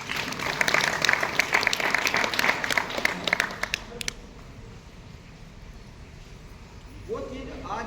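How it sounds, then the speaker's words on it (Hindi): An audience at a leadership training seminar claps loudly for about four seconds, the applause then fading into quiet room noise before a voice starts speaking near the end. "जोरदार तालियां बजाने के लिए"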